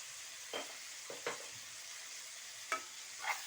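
Finely chopped tomato frying with coriander powder, cumin and turmeric in a pan. A quiet low sizzle runs underneath four separate scraping stirs of a spoon, spread across the clip.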